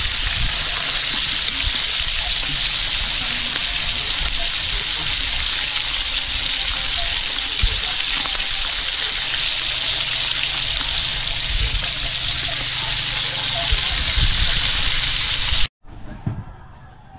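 Tabugok grilling over an open fire with a loud, steady broadband sizzle and hiss that runs close and continuous for about fifteen seconds, then cuts off abruptly, leaving faint scattered sounds.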